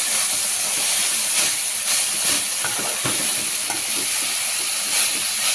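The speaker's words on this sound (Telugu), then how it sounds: "మీరు కూడా ఇలా బాగా ఫ్రై చేసుకోవాలి" Steady loud sizzle and hiss of coriander and tomato frying in a pan for chutney, with occasional stirring scrapes over a constant bright frying noise.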